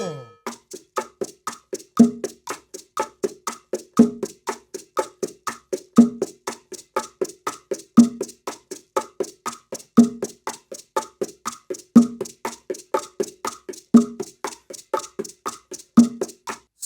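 Bongos played with hand strokes in the martillo rhythm: a steady, even stream of crisp close taps with a louder accented beat recurring every two seconds, alone with no voices.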